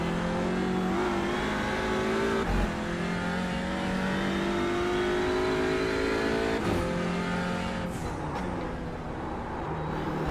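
Audi TCR race car engine in the video game iRacing at Circuit Gilles-Villeneuve, a steady loud rev holding high pitch with gear shifts and brief dips, continuous and close, without talk.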